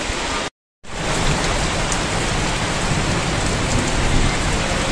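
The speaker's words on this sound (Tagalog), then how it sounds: "Umuulan na naman dito ngayon sa amin at sinasabayan ng hangin." Steady, dense wind-driven rain pours down with a constant hiss, briefly cut off by a short silence near the start before resuming.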